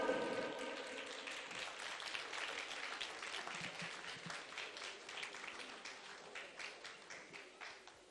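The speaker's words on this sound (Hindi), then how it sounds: "आप सबकी तालियों के बीच बुलाना चाहूंगी" Audience applause welcoming a doctor onstage at a Kidney Day event, a dense steady patter of many hands clapping for about eight seconds, fairly distant and gradually thinning out.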